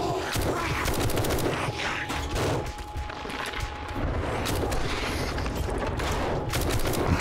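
Rapid bursts of gunfire from the zombie survival game 7 Days to Die during a horde night, dense and continuous at close range with layered impacts and game ambience throughout.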